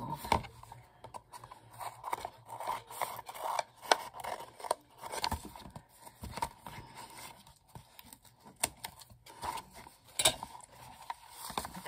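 Scissors trim the edge of a used paper envelope, giving a run of close, quiet rasping snips and rubs at an uneven rhythm across the whole stretch, with no talk.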